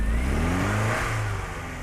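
A classic Ford Escort engine revs up loud and close, its pitch climbing and then easing back into a smooth, steady run.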